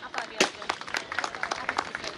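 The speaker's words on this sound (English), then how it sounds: "Can we have a huge round of applause for sir?" An audience at a Health Is Wealth Day event applauds the chief guest with a scattered, uneven patter of claps, voices talking through it.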